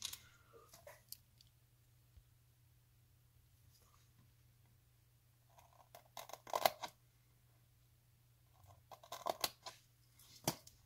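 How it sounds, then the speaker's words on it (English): Scissors snipping out a traced shape for a modified Casio AE1200WH-1A watch, faint scattered clicks and cuts in small clusters over a low steady hum, quiet and close. "Let's go ahead and use our scissors to cut this out."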